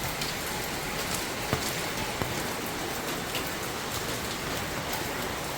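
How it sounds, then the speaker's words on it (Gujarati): Steady rain falls continuously in a residential society, a dense even hiss with a few sharper drops tapping nearby. "વરસાદ એક ધારો ચાલુ છે, સવારથી પાછો ચાલુ થઈ ગયો છે."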